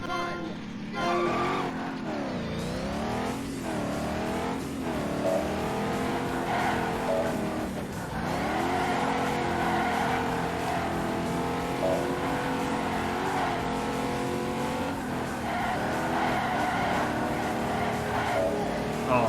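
Ford Mustang race cars roar through a race in Ford Racing 3, engines revving up and down through gear changes for the whole stretch, with tire squeals and skids mixed in at close range.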